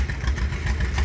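A John Deere tractor engine runs at a vintage farm machinery show, giving a steady, close, low chugging rumble with a slight uneven pulse and no voices.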